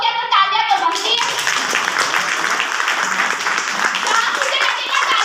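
Sustained audience applause and clapping at a hotel product presentation, steady and fairly loud throughout, with a few voices and a child's speech briefly audible at the start.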